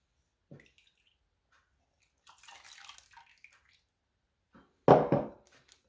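Whey drains from homemade ricotta cheese: faint isolated drips in near silence, then one louder, close splash of pouring liquid.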